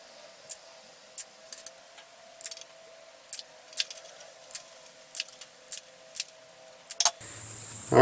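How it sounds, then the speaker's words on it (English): Regular sharp snips, about a dozen evenly spaced, as small pieces of metal for a barbecue burner are cut, with a faint steady hum underneath and a louder clatter at the end. "So just let me go ahead and cut these."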